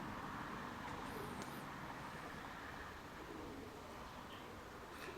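Faint cooing of pigeons outdoors on a windy day, soft calls over a steady hiss of wind and distant traffic-like rumble.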